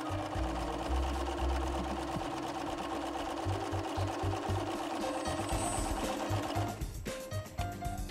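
Bernina 380 sewing machine stitching a buttonhole, a steady rapid mechanical whir with rhythmic needle thumps running throughout, close and continuous, shifting slightly near the end as it finishes.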